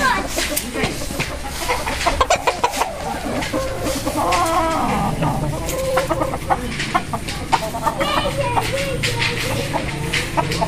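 Sweater gamefowl rooster from a gamefarm clucking repeatedly and loudly up close, short clucks scattered across the clip with farm background and someone talking over them.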